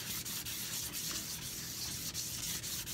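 Steady, continuous abrasive sanding of wooden buttons, a close scratchy rubbing with slight rhythmic strokes and no talking.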